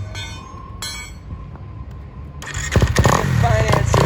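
A used 2021 Kawasaki KX250, an electric-start, liquid-cooled, fuel-injected motocross dirt bike, roars loudly into life partway through after a quieter stretch of tonal hum, then keeps running with a rough, steady engine noise.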